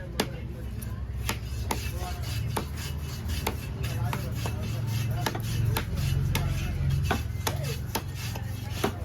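A knife chopping a large fish at Kasimedu fish market, with repeated sharp thwacks in an irregular fast rhythm over steady background chatter and market noise, people talking throughout.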